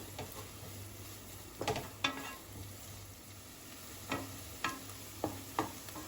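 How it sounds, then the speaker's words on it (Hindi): Chopped onions sautéing in a pan for Mexican rice, a faint low sizzle broken by a few sharp spoon scrapes and taps spaced a second or so apart, no voices. "प्याज को हमने हल्का सा गुलाबी होने तक भूनना है, ट्रांसपेरेंट होने तक भूनना है।"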